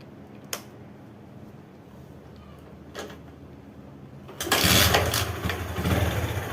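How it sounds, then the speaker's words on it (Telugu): A used Bajaj Platina motorcycle with kick start only: a few faint knocks and clicks as it is kicked, then the single-cylinder engine catches and runs in a loud, steady idle. "ఒకసారి మీకు ఇంజన్ స్టార్ట్ చేసి చూపెడతాను."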